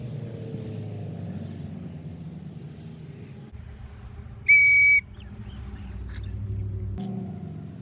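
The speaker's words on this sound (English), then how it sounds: "The advantage of the whistle" A dog-training recall whistle gives one loud, sharp, steady blast of about half a second, standing out clearly over a low background rumble.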